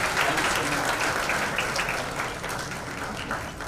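An audience claps loudly and steadily throughout, a dense wash of applause with no pause.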